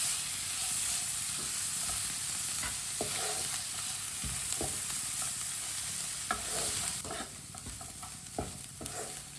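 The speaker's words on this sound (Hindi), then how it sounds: "सब्ज धनिया को भी अच्छी तरह मिक्स कर लेंगे।" Chopped fresh coriander stirred into potato masala frying in a pan for aloo tikki, a continuous close sizzle with intermittent scraping and clacking spoon strokes against the pan, no voices.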